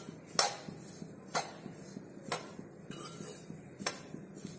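Grated coconut being dry-roasted and stirred in a pan, a spoon or spatula scraping and clinking against the metal about once a second, fairly faint over a soft background.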